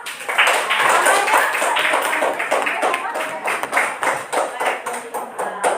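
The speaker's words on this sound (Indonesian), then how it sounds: "tepuk tangan dong" A group of students in a classroom clapping hands after a presentation, a moderate round of claps mixed with a voice talking over it.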